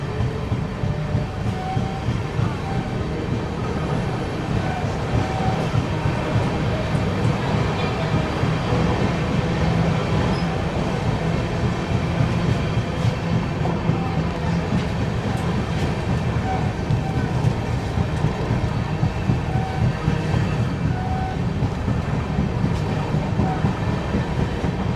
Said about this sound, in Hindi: देखो धीरे धीरे स्पीड अप भी हो रही है ट्रेन